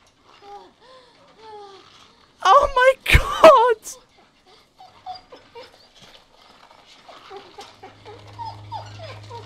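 A dog whimpers and whines in The Walking Dead: Season 2 video game, with soft repeated cries before and after a burst of loud, frantic shouting from a player.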